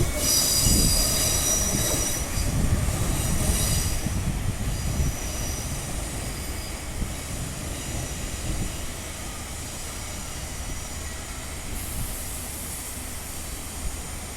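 Perth suburban train crossing over points at East Perth: high, piercing wheel squeals ring out loudly over a heavy rolling rumble, easing to quieter running and rail noise, with another brief squeal near the end.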